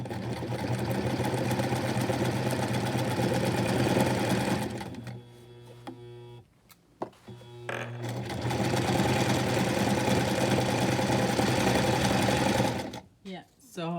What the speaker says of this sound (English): Okay, so turn on sewing machine.